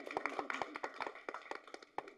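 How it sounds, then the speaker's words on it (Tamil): An audience claps at a movie press meet for a film, producing a brief, moderately faint patter of scattered hand claps with an uneven, quick rhythm. "அட கைதட்டுங்க, என்னங்க அது?"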